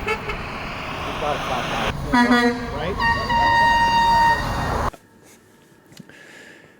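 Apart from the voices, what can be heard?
car horns honking at a strike picket line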